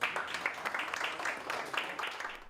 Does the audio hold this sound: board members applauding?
yes